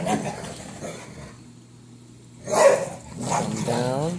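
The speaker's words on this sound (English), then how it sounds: "Excuse my dogs." Dogs bark and yip indoors near an aquarium setup, a couple of short barks and whimpers mixed with a person talking.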